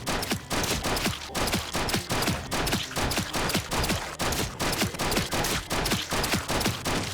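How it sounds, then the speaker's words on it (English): Revolver gunshots in the Project Zomboid video game, a dense run of sharp shots cracking in close rhythm over several seconds. "I pulled out the revolver and did what I could"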